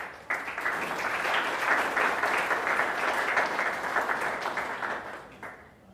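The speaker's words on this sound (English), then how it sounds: "A round of applause in absentia." A round of applause from an audience at a Blue Flag and Green Coast awards ceremony, rising quickly, holding steady for several seconds, then fading out, moderately distant.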